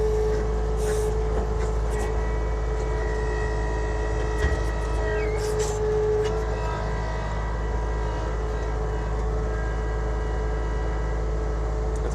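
An Avant compact loader on a construction site runs at raised RPM, its steady engine drone and hum holding close and constant throughout, with faint mechanical clanks and a brief hiss partway through.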